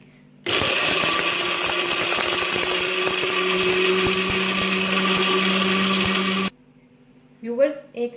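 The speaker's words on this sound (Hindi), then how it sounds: "1 से 2 मिनट मैंने इन मसालों को इस ग्राइंडर में ग्राइंड किया है" A spice grinder whirs loudly and steadily for about six seconds, grinding whole garam masala spices, then cuts off, followed by a brief voice.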